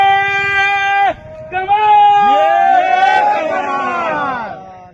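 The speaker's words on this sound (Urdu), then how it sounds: "نعرے" A crowd at a Pak Sarzameen Party labour rally in Karachi chants slogans in loud, drawn-out group voices, with one leader's call answered by many people shouting together, close and sustained.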